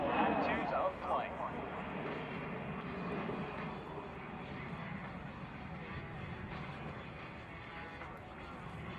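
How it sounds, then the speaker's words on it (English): An A-10 Warthog jet climbing straight into the vertical during an airshow demonstration, a broad, steady engine roar that stays fairly loud throughout, with a public-address voice talking over it. "Captain Shutterly straight into the vertical, demonstrating the Warthog's power and maneuverability in all attitudes of flight"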